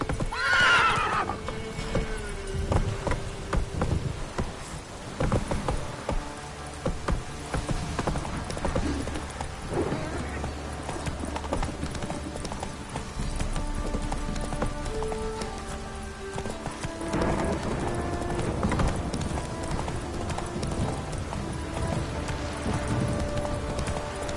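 Roach, Geralt's horse in The Witcher 3, neighs loudly near the start, then trots with steady clip-clop hoofbeats over a busy game soundscape with music, with another whinny midway.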